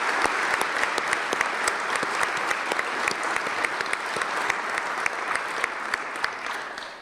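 Sustained audience applause at a mayoral inauguration ceremony, a broad wash of clapping with crisp individual claps popping through, fairly close and steady before tapering at the very end.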